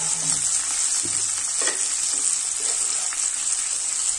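Spice masala with ginger paste, chili powder and cumin powder frying in oil, a bright steady sizzle with light stirring scrapes, close and loud, no voices.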